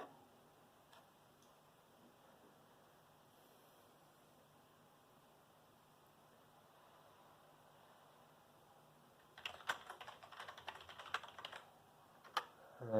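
A computer keyboard is typed on during Windows setup on an Atari VCS. A quick, uneven burst of soft key clicks comes near the end after a long stretch of near-silent room hiss, followed by a couple of isolated taps.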